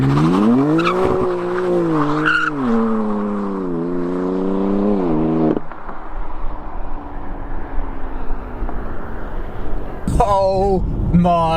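A new BMW M3's loud engine revs and holds a high, strained note before tires squeal through a drift, with the motor roaring back up at the end.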